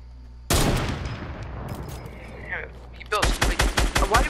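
Rapid bursts of video game gunfire erupt loudly and close, a sustained volley followed by a sharp string of evenly spaced shots near the end.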